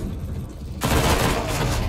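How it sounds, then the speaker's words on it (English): A Counter-Strike flashbang grenade goes off, a sudden harsh burst that cuts in partway through and is followed by a sustained loud ringing hiss over low game background noise. "Flashbang."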